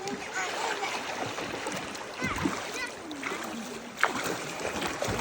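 Someone swims through a river on a hot summer day, water sloshing and splashing in uneven bursts with a few sharper splashes, close by under a steady wash of flowing water.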